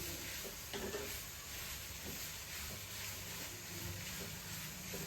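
Carrots stirred into a hot raw mango sauce in a pan, a steady sizzling hiss with occasional soft scraping strokes of the spoon, close and continuous, with no talking.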